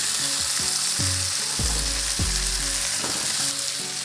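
Rack of lamb sizzles and spits in a very hot cast iron pan, a loud steady frying hiss with a few low thumps and clatters from handling, no talking.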